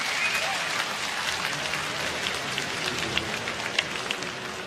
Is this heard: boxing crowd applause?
yes